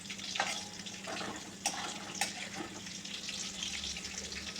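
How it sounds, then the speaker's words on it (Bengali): Chicken pakora frying in oil over lowered gas, a continuous soft crackling sizzle with a few sharp clinks of stirring, fairly quiet and close, no speech. "গ্যাসটা একটু কমিয়ে এরকম উল্টে পাল্টে ভালো করে ভেজে নেব।"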